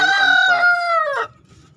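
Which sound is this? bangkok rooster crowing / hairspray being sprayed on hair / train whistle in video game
bangkok rooster crowing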